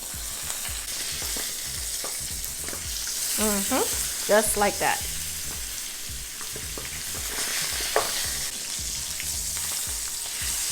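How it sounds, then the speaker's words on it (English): Salmon fillet placed skin side down sizzles steadily in hot oil in a pan, a loud continuous frying hiss with some stirring clatter, while a voice speaks briefly partway through. "And we're gonna place the salmon skin side down,"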